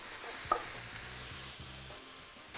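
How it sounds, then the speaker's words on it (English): Scallions and mushrooms frying in a pan for a vegan creamy tagliatelle, with a steady soft sizzle, a spoon stirring and one brief clink near the start, and no talking. "In goes our scallions into the pan, or spring onions."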